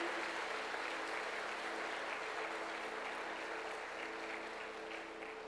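A church congregation applauds during a service, a soft, distant wash of steady clapping from many people that fades slightly over several seconds.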